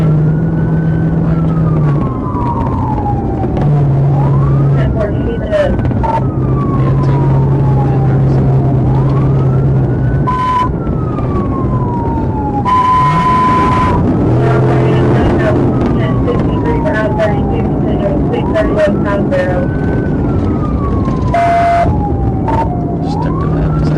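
Loud wailing police car sirens rise and fall repeatedly during a high-speed chase, mixed with yelp bursts and road noise throughout, with no talking.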